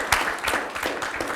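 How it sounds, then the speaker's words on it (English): Audience applause at a chef's talk during a gourmet food symposium, a steady wash of clapping across the whole moment, even and moderately loud. "Big round of applause for Josh."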